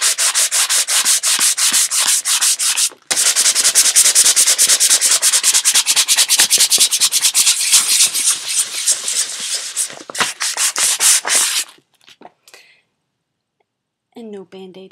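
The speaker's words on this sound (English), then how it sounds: "How do you like a little bit of sandpaper?" Sandpaper rubs in rapid, continuous strokes at close range, loud and harsh, with a brief pause near the start, then it thins into scattered scrapes and stops, followed by a few faint handling sounds.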